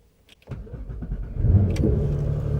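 A Porsche 911 R engine cranks and catches, then settles into a loud, steady idle close by.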